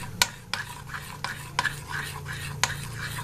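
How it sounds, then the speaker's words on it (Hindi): Oil stirred into pizza batter in a bowl, giving a run of sharp spoon-against-bowl clicks at irregular intervals over a soft, steady scraping and stirring background. "अब इसको भी अच्छी तरह मिक्स कर लेंगे।"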